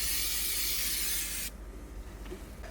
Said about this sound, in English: give the entire assembly another round of brake cleaner